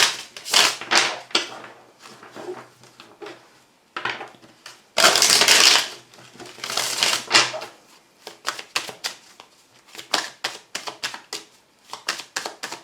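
Oracle cards are shuffled for a reading in bursts of dry, papery riffling and slapping, close and fairly faint, with short pauses between the runs and a louder stretch in the middle.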